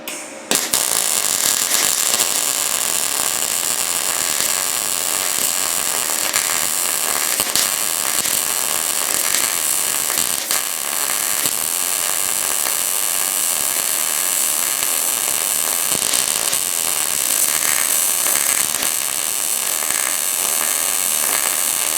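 A Yeswelder DP200 welder set to 14 gauge fills a gap in metal. Its loud, steady crackling hiss runs without a break from a sharp start, close and alone.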